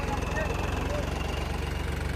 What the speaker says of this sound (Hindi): लो भाई ट्रैक्टर अपना आ चुका है